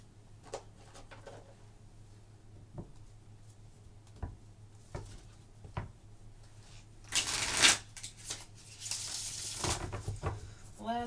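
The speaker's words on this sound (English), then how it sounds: "One more shuffle." Tarot cards shuffled in a burst of crisp riffling that ends in a bridge-like flutter, loud and close, after a stretch of quiet taps and small handling clicks.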